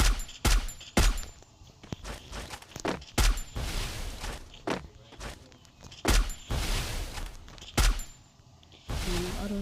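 Gunfire in the mobile battle game Free Fire: loud, close bursts of sharp shots in uneven clusters, with quieter gaps of movement and background noise between volleys.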